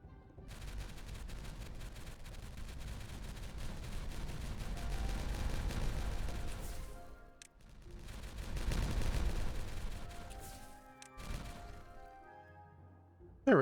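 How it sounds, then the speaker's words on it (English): Explosives in Timberborn detonate together as a rolling, rumbling crackle that swells twice in long waves of rapid bursts, then fades to quiet with a final sharp thud. "It is now time for the next round of the explosives to go to be detonated"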